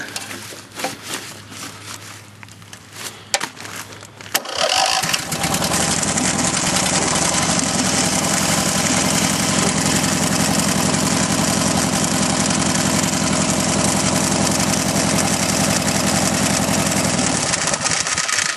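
A cold engine on a racer project is choked and then started. A few seconds of cranking and clatter give way to a loud, steady, rough idle that runs on close by for the rest of the time.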